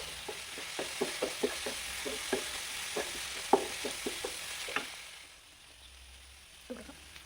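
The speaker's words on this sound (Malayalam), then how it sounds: "ഇനി ഇവയെല്ലാം കൂടി ഒരു 2 മിനിറ്റ് നേരം ഒന്ന് വഴറ്റാം." Egg rice masala is sautéed in a pan, with a steady sizzle beneath regular scraping and tapping stirs from a spoon. The frying hiss fades near the end, and a final clink follows.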